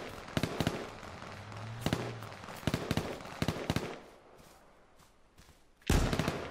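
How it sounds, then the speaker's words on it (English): Sniper rifle fire in the online shooter H1Z1, a rapid series of sharp cracks and booms with one loud report near the end, heard alone without talk. "Oh, I nearly sniped his head off."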